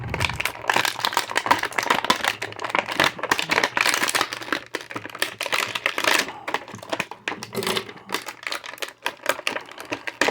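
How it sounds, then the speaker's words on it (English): Quick snipping with small scissors through stiff plastic toy packaging, a run of sharp close cuts and rustles with no talking. "Get my little scissors here"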